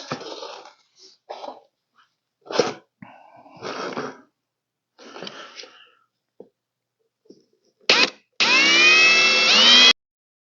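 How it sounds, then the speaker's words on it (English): Several short, scattered bursts of grinding, then a sustained high-pitched whining step drill bit boring a 15/16-inch hole in a plastic Ford Crown Victoria P71 air filter box, loud and close before stopping abruptly. "So I'm going to drill a 15/16 hole just above that rib on both sides."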